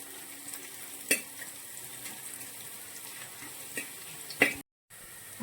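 Quiet frying of ginger and garlic in hot oil for a Kerala pearlspot mappas curry, a low steady sizzle with a few sharp clinks from a spoon or pan.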